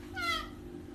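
A cat gives a single clear, rising-and-falling meow, close and fairly loud, over a low steady background hum.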